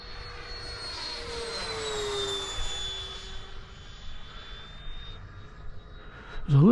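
A Freewing F-4 Phantom model jet flies at about half throttle, its electric ducted-fan whine steady and high-pitched as it passes, moderately loud and alone.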